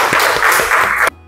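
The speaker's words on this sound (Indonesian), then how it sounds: "tepuk tangan." A classroom of students claps together in a short burst of dense, loud applause lasting about a second, then stops abruptly into near quiet.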